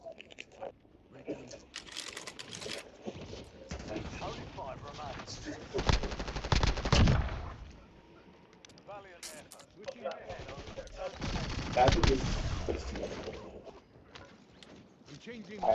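Video game gunfire, bursts of rapid shots and heavy weapon fire with crunchy impacts, rising and falling in intensity while players talk and laugh over it.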